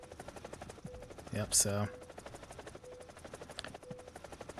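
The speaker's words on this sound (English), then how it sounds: "so that's a very nice flying helicopter" Helicopter flying in a combat video game, a steady buzzing rotor drone running throughout with a brief louder burst of engine or gunfire noise midway, while a person speaks briefly over it.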